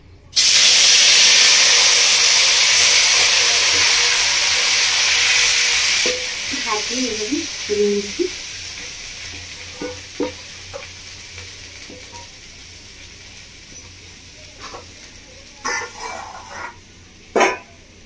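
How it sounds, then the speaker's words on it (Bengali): A mashed potato mixture hits hot oil left from frying fish, giving a loud, bright sizzle that fades after a few seconds, then quieter frying with scattered stirring scrapes and clinks. "যেটা মাছ ভেজেছিলাম সেই তেলটার মধ্যে আমি এবার দিয়ে দেবো এটা মাখাটা"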